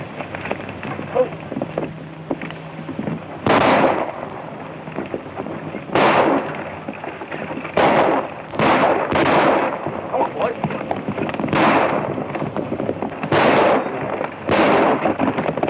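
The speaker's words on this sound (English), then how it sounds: "I want you to fire over their heads." Guns fire over the heads of riders in a 1935 Western, a series of loud, sharp shot bursts at irregular intervals against a hissing, noisy background.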